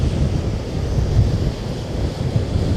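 Storm waves on Lake Erie smash against a break wall near Buffalo: a continuous roaring surge with heavy wind buffeting the microphone, loud and steady with some distant thumps.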